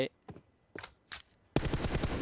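Gunfire during a video game esports match: three or four short, sharp bursts with brief gaps, then a sustained rapid automatic volley. Close and crisp against quiet background, with faint voices.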